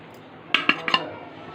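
Curd raita with spices is stirred in a bowl: four quick, close spoon clinks in a row, then quiet over a low background hiss.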